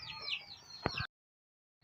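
White Leghorn and country (native) chicks clucking and cheeping in a farm pen, a brief busy burst of close chirps and clucks that cuts off abruptly into silence before resuming faintly at the end.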